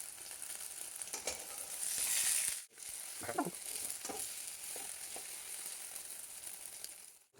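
Egg omelette sizzling in a little oil in a pan, a steady soft frying hiss with occasional scraping and stirring clicks from a utensil, close and fairly quiet, with no talking.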